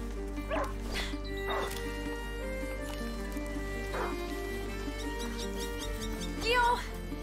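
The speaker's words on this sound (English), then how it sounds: "A hunting dog is not supposed to lose its hunter." Hunting dog in the video game A Plague Tale: Innocence, giving several short barks and yips at intervals over steady game music and ambience, with a louder bark near the end.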